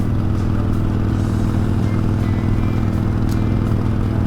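Harley-Davidson motorcycle with a stage 1 tune and Bassani exhaust idling, a loud steady low-pitched rumbling throb with faint mechanical clatter, close by and unbroken for several seconds.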